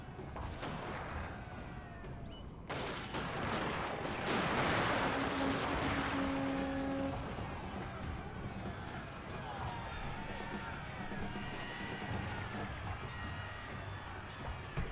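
Video-game battle gunfire: steady, close bursts of rapid shots and booming artillery-like blasts blend into a dense, continuous wall of combat noise, with a few tonal effects cutting through.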